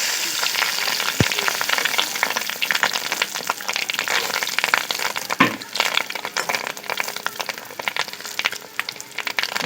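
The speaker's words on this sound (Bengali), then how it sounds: "উল্টিয়ে পাল্টিয়ে ভালো করে ভেজে নেব।" Fish roe fritters fry in oil over a constant close crackling sizzle, with a couple of sharp taps from the pan or utensil along the way.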